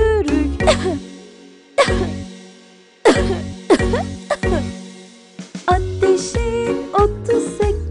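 Coughs set into a Turkish children's song about catching a cold, recurring in bursts between bright sung and tonal musical phrases, loud and close over a steady backing.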